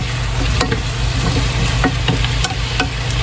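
Chicken with celery and tomato sizzling in a hot pan while being stirred, with steady frying hiss and repeated scraping stirs close by.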